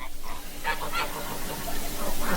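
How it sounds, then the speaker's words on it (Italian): A flock of ducks and geese crossing a rural road in Transylvania, honking and quacking in several close calls, fairly loud, heard from a stopped car. "sono fermo in macchina perché ho la colonna di anatre"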